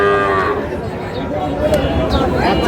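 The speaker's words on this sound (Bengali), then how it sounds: "শাহিওয়ালের ষাঁড়।" A Sahiwal bull at a cattle market lets out a deep, drawn-out moo close by, with people talking over the sound and the noise of the crowd around it.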